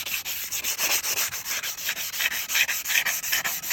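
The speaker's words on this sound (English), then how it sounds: "So there was enough rust on it that I decided to just sand them all off." Rust is sanded off bicycle front wheel bearings with 150 grit sandpaper, a steady rhythmic scratchy rubbing in quick repeated back-and-forth strokes, close and continuous with no talk.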